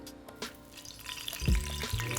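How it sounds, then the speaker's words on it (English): A drop of water hits hot cooking oil in a kitchen pan. There is a soft, watery crackle, then a louder burst of sizzling and spattering near the end. "One way of testing if your oil is hot already is by dripping just a drop of water"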